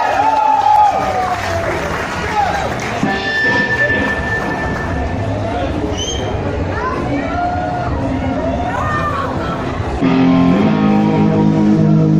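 Applause and cheering from an audience at a live band performance of a rock cover, a broad crowd wash with some babble, strongest at the start and swelling again near the end.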